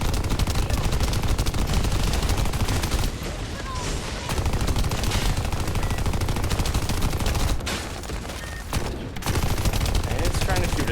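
Dense, continuous enemy gunfire in the shooter The First Descendant, a loud sustained barrage with brief lulls, overlapping player chatter.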